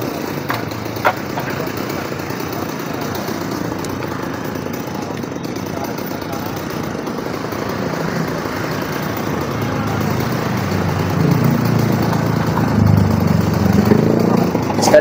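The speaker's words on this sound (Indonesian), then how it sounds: "pemotongan dari gergaji mesin sebuah pohon yang ada di tengah jalan di Kompas" A droning chainsaw engine runs continuously, growing louder and heavier toward the end as it cuts through a tree in the middle of a street nearby.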